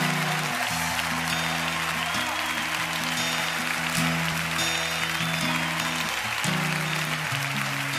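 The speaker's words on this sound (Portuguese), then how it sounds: "dê um glória a Deus e aplauda ao Senhor," A church congregation applauds in praise during a worship service, steady broadband clapping filling the room over sustained organ or keyboard chords, with no speech on top.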